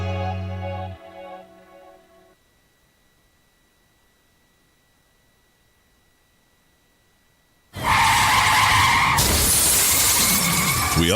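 A car's tires skid loudly for a couple of seconds after a long silence, ending in a crash, all close and with no talking.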